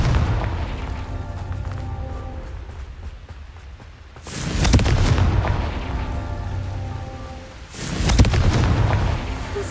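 Two heavy, booming blasts from the Confringo fire spell in the game Hogwarts Legacy, each with a long rumbling tail, over a steady loud background of game sound.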